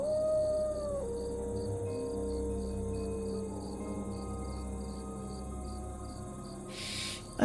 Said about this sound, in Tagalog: may marinig silang mga alulong ng aso